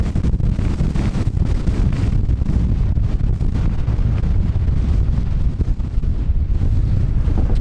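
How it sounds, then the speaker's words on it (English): Strong wind near a mountain cliff in Assynt buffets the microphone in a constant loud roar, low and gusty throughout with no let-up. "It's really, really windy."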